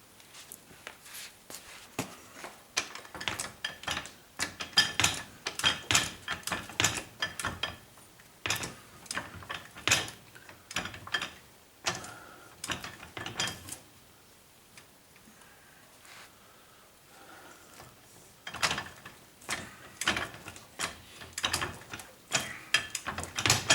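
A jack ratchets steadily as it lifts the rear trailing arm of a BMW, with bursts of rapid clicking broken by short pauses, close and fairly loud.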